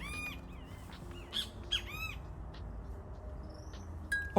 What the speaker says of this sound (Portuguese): Onde os bem-te-vis nos acordavam cantando.